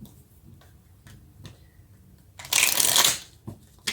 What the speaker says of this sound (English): Let's get some cards from the universe.